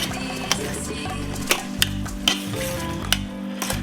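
Ground meat for picadillo sizzles steadily in a pan, a close, continuous crackle broken by a few sharp clicks and taps of a utensil against the cookware.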